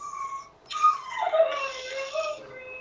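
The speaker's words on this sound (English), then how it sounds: "I hear a dog at the background." A dog whimpers softly in the background, a thin drawn-out whine that slides downward and repeats faintly over a quiet room.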